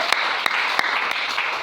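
A church congregation claps in a dense, sustained roar of applause with a few louder individual claps standing out, filling the room throughout.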